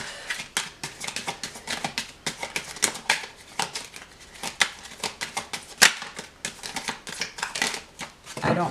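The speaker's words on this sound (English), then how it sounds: "I'm going to kind of do a soft shuffle" Tarot cards softly shuffled in repeated quick riffles and slides, close and crisp with an irregular papery rhythm, no talking over it.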